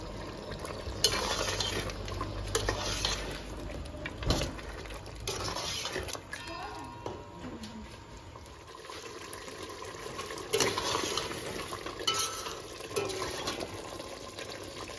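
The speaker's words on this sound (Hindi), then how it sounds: "गोश्त डल गया, बस इसकी थोड़ी सी भुनाई करनी है" Mutton being stir-fried in a pan, a continuous close sizzle with frequent scraping stirs and clatters, moderately loud and steady throughout.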